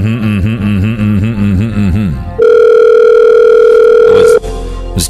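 A telephone redial: a rapid series of pulsing dial tones for about two seconds, then a loud steady tone for two seconds, then a brief click and low hum.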